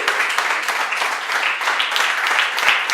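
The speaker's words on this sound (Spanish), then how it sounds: "¿Cuánto le da un aplauso al Señor?" A church congregation applauds during a Spanish-language sermon on the resurrection, producing a dense, steady burst of many hands clapping close by for the full three seconds.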